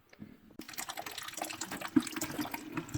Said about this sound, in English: the tubs, the sinks, the toilets, all the supply lines are going to drain down into this